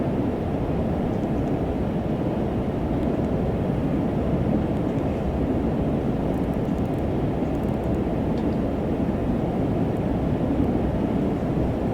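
Steady, broad cockpit roar of a Synaptic A220 airliner climbing to flight level 240 in a flight simulator, a constant low rumbling drone without variation, with no speech.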